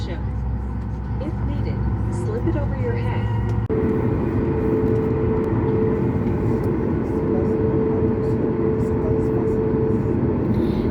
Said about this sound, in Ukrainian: бачите, на взлет пішов один